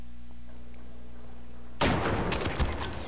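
In Half-Life: Opposing Force, a Black Ops soldier opens fire: a steady low hum breaks into loud, close bursts of gunshots and cracking impacts that run to the end, with no voices.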